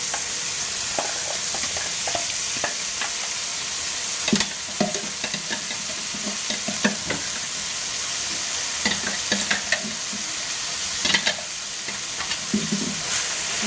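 Ground ridge gourd peel chutney tipped into hot tempering, sizzling and frying steadily near the mic, broken by scrapes and clinks of stirring, with no talk.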